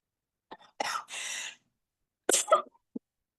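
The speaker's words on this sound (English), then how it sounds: "Excuse me for coughing in your ear" A few close, sharp coughs in quick bursts, with a short pause before another cough and a small throat sound, otherwise quiet.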